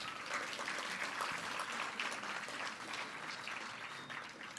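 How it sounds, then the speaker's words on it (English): Sustained audience applause at a morning business networking event, dense and steady throughout and slowly tapering toward the end, with no one speaking over it. "Can we give him another round of applause?"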